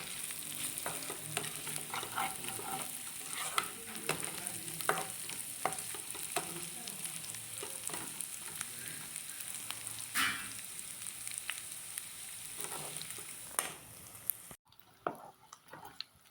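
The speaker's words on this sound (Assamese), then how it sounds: "সেয়া মাংসখিনি ভাজি আছোঁ" Meat frying in a pan gives off a continuous close sizzle, broken by frequent scraping and stirring knocks that go quiet near the end.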